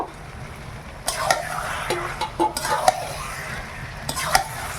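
Mutton being added to a spice masala in a pot, close metallic clinks and scrapes of a spoon against the pot over a low background sizzle, in a few irregular bursts.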